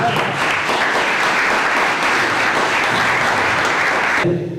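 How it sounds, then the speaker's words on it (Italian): An audience at a 2011 journalism award ceremony gives sustained, close applause that holds steady for about four seconds, then breaks off abruptly into near quiet. "un applauso di Viana."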